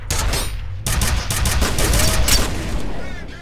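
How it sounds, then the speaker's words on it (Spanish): Rapid bursts of gunfire from a F.E.A.R. firefight, loud and dense with booming shots and rattling automatic fire over about three seconds, a brief lull near the start, with a voice speaking underneath. "Ahí, disparamos."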